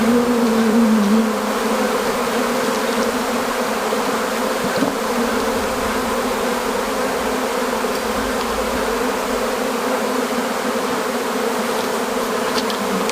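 Honey bees swarm over an opened hive during a spring inspection, a dense, continuous buzzing drone close by that holds steady throughout with no voices.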